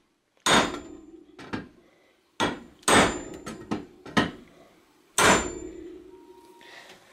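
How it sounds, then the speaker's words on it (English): An iron bar struck with a small hand sledge to drive a cotter pin out of a bicycle crank: a series of loud, ringing metallic blows in irregular clusters, with short pauses between strikes. "So I'm gonna use this to pound that cotter pin down and hopefully knock that cotter pin out."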